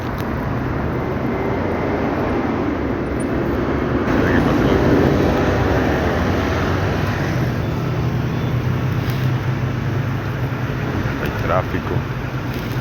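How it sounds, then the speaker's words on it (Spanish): Heavy, steady street traffic with many cars passing, a continuous low rumble mixed with strong wind buffeting on the microphone of a cyclist riding downhill on a cold day, with no clear single vehicle standing out. "bastantes carros en la calle"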